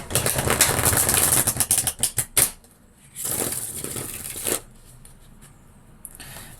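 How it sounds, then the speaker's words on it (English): A deck of cards is riffled and shuffled in quick crisp bursts, pausing briefly between passes, close and fairly loud. "Let's shuffle this deck again and have a look and see what comes out."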